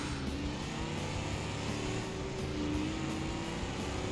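Car engine running right behind the player in BeamNG.drive, a continuous droning hum with a steady tone that swells slightly, heard alone without talk.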